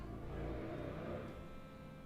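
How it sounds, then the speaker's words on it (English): A loud car revs outside, a steady, muffled engine drone that swells slightly and holds, faint and distant from indoors with no talking over it. "There's a loud car outside."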